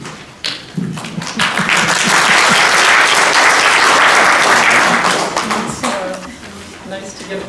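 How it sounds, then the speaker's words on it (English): A crowd in a lecture audience at a human trafficking awareness event breaks into loud, sustained applause that swells, holds for several seconds and then tapers off, with a few voices at the edges. "It's nice to get applause before you speak."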